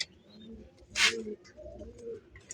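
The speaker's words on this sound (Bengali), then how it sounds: "বন্ধুরা এখানে আরেক জোড়া দেখেন আমাদের দেশীয় গোল্লা কবুতর, কালো কুচকুচা" Jet-black native Golla pigeons, a pair of male and female, coo softly nearby in low, rolling phrases, with one brief sharp flutter or scuffle in the middle.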